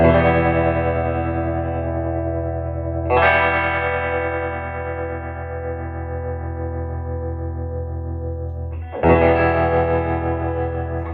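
Electric guitar chords struck three times through a 1971 Fender Princeton amp, each long sustain wobbling with rapid tremolo pulsing at full speed, loud and close.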